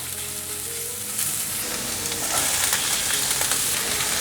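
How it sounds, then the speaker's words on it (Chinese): Celery, carrots and cabbage stir-frying in a wok give a loud, steady sizzle that grows a little stronger partway through, broken by scraping stirs with no voices. "放入红萝卜， 快速翻炒。"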